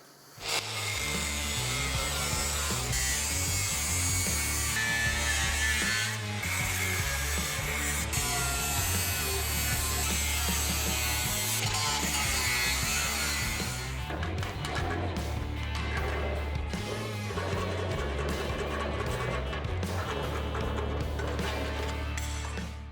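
Metal sawing on a steel gate section being trimmed about a millimetre inward to fit a plate for an electric lock, a continuous loud grinding-rasping cut that runs steadily for about twenty seconds, then changes character near the end.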